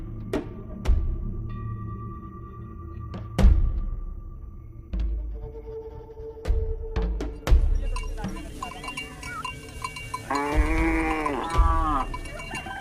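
A herd of cattle grazes near a homestead enclosure in rural Africa, their cowbells clanking irregularly, loud and close, while a cow lows in a long drawn moo near the end.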